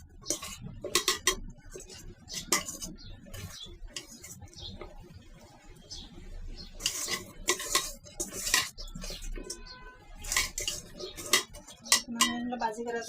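Fish pieces are being mixed with turmeric powder and salt in a bowl, making irregular close clinks, taps and scrapes against the bowl in uneven bursts with quiet gaps between them.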